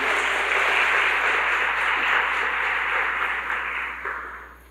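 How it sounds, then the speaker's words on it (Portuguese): A church congregation applauds together in a broad, sustained wash of clapping that holds steady and then begins to taper off toward the end. "aplauda mais uma vez o Senhor"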